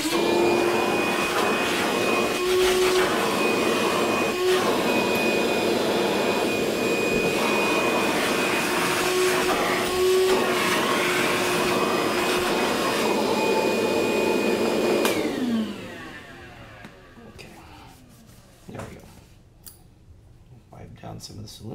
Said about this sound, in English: I'm going to turn the vacuum on. It's going to be a little loud for just a second.